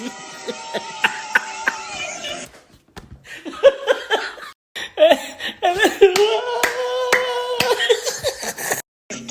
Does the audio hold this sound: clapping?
yes